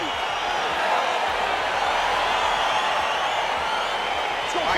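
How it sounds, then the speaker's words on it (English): Crowd cheering and buzzing as a UFC bout gets underway in the UFC 4 video game, a dense, steady arena roar that holds at an even level throughout. "crowd getting excited as this fight gets underway"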